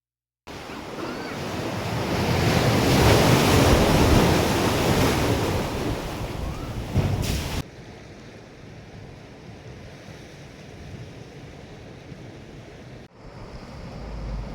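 Sea waves crash into the Bamanghal rock cleft on Hedvi beach in a loud surging roar that swells and then fades to a lower, steady wash with wind noise.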